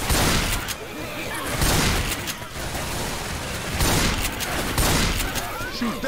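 Rapid shotgun and weapon fire blasts repeatedly at zombies in the Left 4 Dead 2 video game, loud dense bursts over several seconds mixed with game noise and voices.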